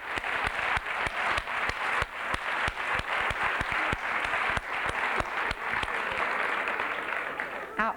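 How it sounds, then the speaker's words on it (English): Steady audience applause at a panel discussion event, dense clapping from a large crowd sustained throughout, with sharper individual claps standing out and faint murmuring beneath. "you should applaud yourselves"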